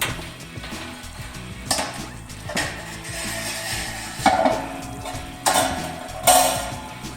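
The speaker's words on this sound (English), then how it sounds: "let's put this pork shoulder on and get it cooking" A pork shoulder goes into a warmed-up Big Easy cooker with a few sharp metallic clanks and rattles, four or five separate bursts over a low steady background, close by with no talk.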